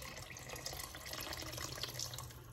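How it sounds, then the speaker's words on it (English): Leftover Nicaraguan organic coffee is poured into a pot of Texas chili, a faint, steady liquid trickle and splash lasting a couple of seconds with no talking. "We're gonna pour that in there too."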